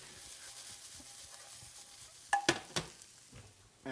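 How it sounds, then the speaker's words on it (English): Food sizzling quietly in a frying pan with a steady soft hiss, broken by a few clear scrapes and clinks of stirring near the middle. "Now, let's not forget to stir."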